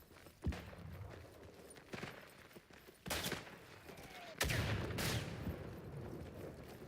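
Artillery barrage in the World War I game Isonzo: several heavy booming blasts land in sequence, some close and loud with long rumbling tails, others more distant, over a continuous battlefield din.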